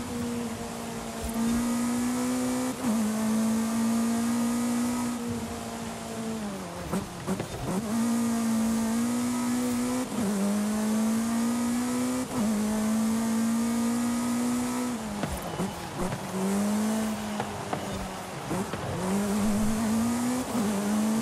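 A Formula 1 race car in Forza Horizon 5 screams through repeated gear changes, its engine note climbing steadily then dropping with each upshift, a loud, continuous high-revving whine with occasional lifts off the throttle.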